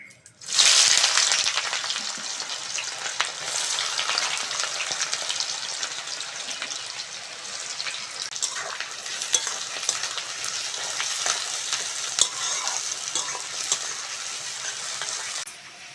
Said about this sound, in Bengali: কুচনো পেঁয়াজটা দিয়ে দেবো